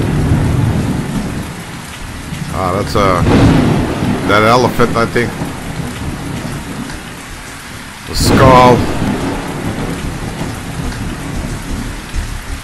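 Rain and thunder in a desert within a video game, steady hiss of rainfall with low rumbling under it, while someone talks intermittently over the storm.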